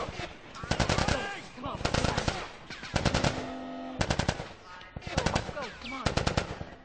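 Automatic gunfire in The Last of Us Part II, loud repeated bursts of rapid shots with short pauses between them, mixed with someone shouting urgently over the shooting.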